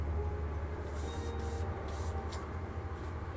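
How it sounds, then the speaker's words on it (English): Several short bursts of spray-gun hiss applying clear coat over chrome on a 1968 Firebird, four or so in a row, over a loud, constant low mechanical rumble. "spraying a clear coat over chrome"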